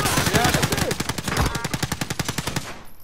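Rapid automatic gunfire in the battle royale shooter Warzone, a dense burst of evenly spaced shots lasting a few seconds, loud and close, then cutting off.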